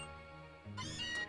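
Cats meowing indoors during rain in the Pokémon Sun video game give a short, tonal, slightly synthetic cry that rises in pitch, heard close and alone for about a second.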